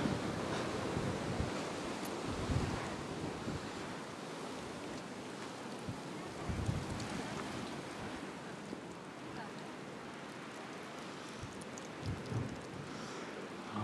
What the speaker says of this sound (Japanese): 風がやばい、風が。